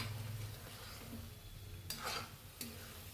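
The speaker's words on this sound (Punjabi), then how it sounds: "ਤੇ ਨਾਲ ਦੀ ਨਾਲ ਆਪਾਂ ਇਸ ਵਿੱਚ ਐਡ ਕੀਤੇ ਹਨ ਪਿਆਜ਼ ਵੀ ਆਪਾਂ 2 ਤੋਂ 3 ਮਿੰਟ ਤੱਕ ਹਲਕਾ ਹਲਕਾ ਰੋਸਟ ਕਰ ਲਵਾਂਗੇ" Onions for paneer butter masala roast gently in a pan, with a quiet, steady sizzle and two brief scraping stirs of a spoon against the metal.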